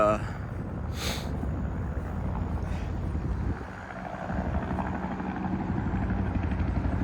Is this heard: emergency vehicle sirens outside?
no